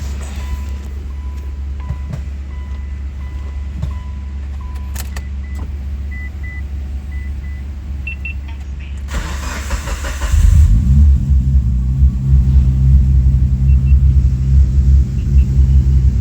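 Mitsubishi Evo 8 on a test drive, its engine a steady low rumble from inside the car that deepens and grows louder as it pulls away partway through.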